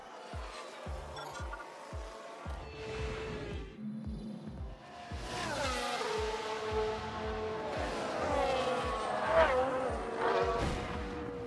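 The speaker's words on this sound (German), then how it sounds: "nein, Hauge hat das Auto weggeworfen." A racing car in the F1 22 video game skids out after the driver loses control, with a run of engine revs, gear shifts and tyre squeal rising into a loud, sustained roar over a rhythmic low thudding.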